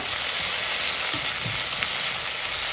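Sliced onions sautéing in a pan, cooked until softened and browned for a rice-flour idli batter dish, give a steady, close sizzle with a few soft stirring scrapes and no voices.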